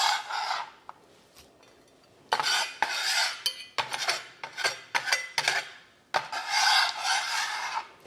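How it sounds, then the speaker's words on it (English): Smashed cucumber is scraped and tipped into a bowl, giving close, rasping, wet scrapes and clinks of a utensil against the bowl in irregular bursts with brief pauses between them. No one speaks. "I'm just going to start to put this all in the bowl"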